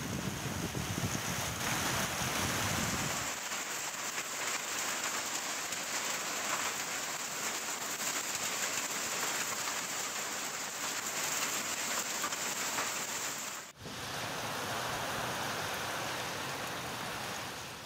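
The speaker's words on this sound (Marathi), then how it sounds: "चांदवड परिसरात वादळी वाऱ्यासह तुफान गारपीट झाली आहे।" A pre-monsoon hailstorm with strong wind strikes rural farmland near Chandwad, Nashik. Dense drumming of hail and rain roars loud and unbroken, heavier and rumbling at first, and no voices are heard.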